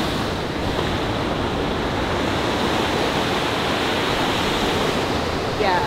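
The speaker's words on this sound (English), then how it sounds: "So we're just watching the intermediate waves at the moment." Steady broadband wash of water from intermediate-level waves breaking in an artificial surf wave pool in Switzerland, a continuous roar with wind noise on the microphone and no clear pauses.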